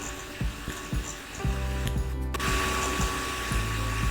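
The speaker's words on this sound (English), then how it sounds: "I sew over a certain point, reverse, sew back over it, go back to the front again, reverse again, and then sew over it again." A sewing machine stitches back and forth over a jute rug. The needle runs in a low, rhythmic motor hum, with the stitching pausing and restarting as it reverses, under a faint background hiss.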